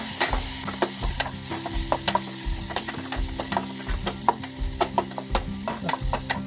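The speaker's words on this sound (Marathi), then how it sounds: "मग टोमॅटो टाकून घ्यायचं आहे. त्याला पण परतून घ्यायचं व्यवस्थित." Chopped tomatoes sautéed in a pan on a home stove, a steady sizzle with regular scraping strokes of a spoon against the pan at a brisk, rhythmic pace, close and clear with no talking.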